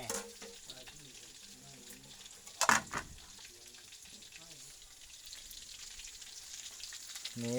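Sai ua sausage fries in a pan with a continuous low sizzle, a sharp spatter burst partway through, as someone talks over it.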